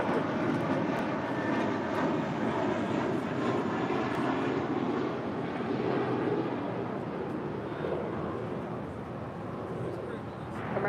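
A jet airliner takes off from runway 25 right at LAX, a loud, steady broadband roar filling the whole stretch while radio voices talk over it.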